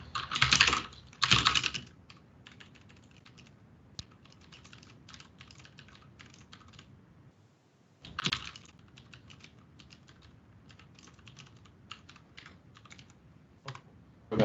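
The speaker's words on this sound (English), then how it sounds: "Okay, I keep clicking Control S." Typing on a computer keyboard, including Ctrl+S presses, during a coding session: a close, steady run of clicking keystrokes with louder bursts of rapid typing near the start and middle, and no talking.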